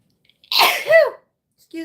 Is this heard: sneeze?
yes